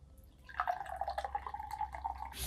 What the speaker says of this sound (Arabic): نجيب بقى كوبايه ونصب ونشوف اللون